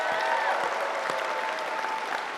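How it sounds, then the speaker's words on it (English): Steady applause from an audience at a Magic: The Gathering event closing program, dense continuous clapping with no pauses, fairly close and even in loudness throughout. "So please, big round of applause for everyone that made this possible this weekend."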